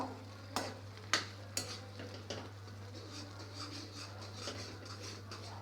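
A spoon stirs powder into noodles in a kadai, with a few sharp taps on the pan at the start, then softer scraping strokes over a faint sizzle and a steady low hum.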